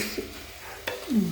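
Potatoes and vegetables sauté in a pan for veg kurma, giving a soft, steady sizzle with a couple of brief stirring scrapes close by.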